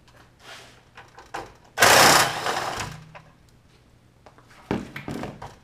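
Screws being removed to open an HB4 T5 high bay light fixture, with short mechanical whirring and clicking bursts, one loud sustained stretch of driver noise in the middle, and quieter handling clatter around it.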